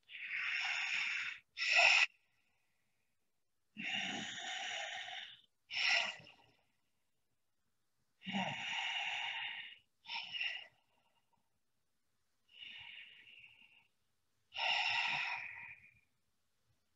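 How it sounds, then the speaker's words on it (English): Deep, slow breaths drawn with a snoring rasp during a guided belly-breathing exercise, repeated in about seven separate bursts of a second or two, each with a short catch at the end, alone with no talk. "I'm going to make a snoring action."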